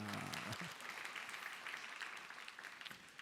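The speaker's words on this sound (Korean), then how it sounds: "합격 통지를 받으면 박수를 쳐야죠" A young-adult congregation at a Sunday church worship service breaks into applause, a soft, distant, continuous patter of many hands.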